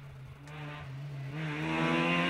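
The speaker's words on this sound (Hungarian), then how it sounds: "És akkor most érkezik, most hallok érkező autót odaföntről" Opel Astra rally car on a stage approaching from higher up the road, its engine note climbing steadily and growing louder as it nears, a sustained revving drone with no voices.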